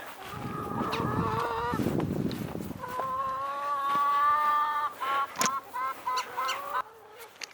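Backyard homestead chickens being fed corn make loud nearby clucks and honking calls, some overlapping and others in short, separate bursts.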